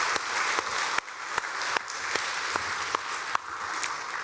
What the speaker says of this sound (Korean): 우리 힘차게 박수 한번 하도록